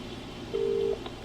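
A single keypad tone from a phone in the video game Contradiction, a steady beep lasting about half a second, clear and close over a quiet background.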